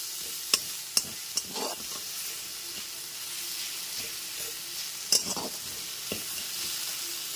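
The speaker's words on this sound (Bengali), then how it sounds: "লবণটা দিয়ে খুব ভালো মতো মিশিয়ে নিচ্ছি।" Tomatoes with salt sizzle softly in a pan under a steady frying hiss, while a spatula knocks and scrapes against the metal a few times as the mixture is stirred; no voices.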